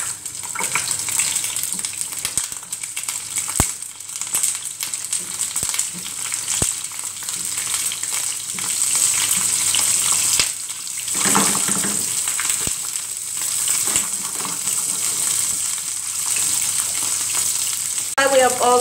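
Asparagus sizzles and crackles steadily in hot oil in a pan, a constant bright frying hiss with occasional stirring clinks.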